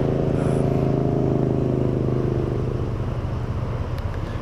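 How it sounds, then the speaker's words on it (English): A motorcycle fitted with aftermarket exhausts rumbles loudly on a road near Christchurch, a deep steady engine drone that stays strong and then slowly eases as it passes. "There's a bike that passes here."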